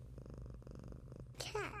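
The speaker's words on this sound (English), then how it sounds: "Cat." A cat purrs in a soft, rhythmic low rumble for over a second, then a brief higher vocal sound breaks in at the end.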